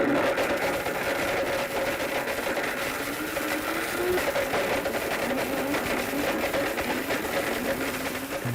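Electric blender running continuously with a buzzing, slightly wavering motor whine and rattle, loud and steady throughout.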